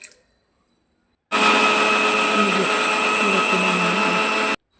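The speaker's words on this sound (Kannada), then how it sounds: "ಜಾರಿಗೆ ಹಾಕ್ಕೊಂಡು ಮಜ್ಜಿಗೆ ಮಾಡಿ ಅದರಿಂದ ಬೆಣ್ಣೆ ತೆಗೆದೆ" A kitchen mixer jar whirs loud and steady for about three seconds, churning cream into buttermilk and butter, starting abruptly after near silence and cutting off just as sharply.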